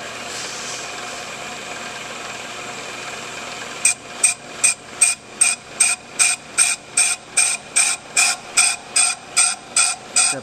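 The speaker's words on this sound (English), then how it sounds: "Do another scratch cut" A brake lathe takes a scratch cut on a rotor drum: a steady mechanical hum, then from partway in a loud, evenly spaced series of sharp ratcheting scrapes repeating about every half second.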